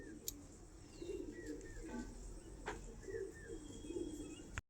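Andha Fulshira pigeons coo softly in short rolling bursts, several birds close by, with faint chirps and a sharp click near the end.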